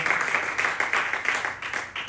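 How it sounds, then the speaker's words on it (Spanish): Church congregation applauding at a Holy Thursday Lord's Supper service, a steady dense wash of many hands clapping, moderately loud and continuous throughout. "Y por eso le damos un grande aplauso al Señor Jesucristo por lo que hizo."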